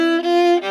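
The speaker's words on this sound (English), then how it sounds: "And if you play it in first position, it's going to sound like this." Viola in first position playing a quick run of sixteenth notes, a few bowed pitches changing in rapid succession, close and clear with no talking.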